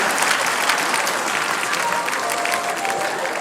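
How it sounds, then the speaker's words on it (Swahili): An audience applauds at an MC's introduction of an artist: dense, steady clapping from many hands, loud and continuous throughout, with no break. "Wapigeni wote makofi mazuri tafadhali."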